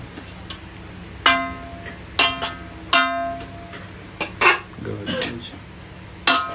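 Chicken goes into a cooking pot with several ringing metallic clanks of a utensil against the pot, spaced irregularly and close by, while someone talks.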